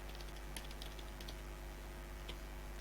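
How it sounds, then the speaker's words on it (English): Quiet clicking of a computer keyboard as a file name is typed, a short uneven burst of keystrokes over a faint steady background hum, with no voices. "I'm just typing the name hello world."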